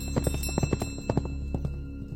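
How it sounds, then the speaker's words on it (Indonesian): Hooves of a horse-drawn carriage clip-clop in a steady, fairly close rhythm, a string of sharp knocking steps over a low background hum, used as a sound effect in a mountain-hiking horror story. "setelah ngedengar suara kereta kuda atau kereta kencana ini"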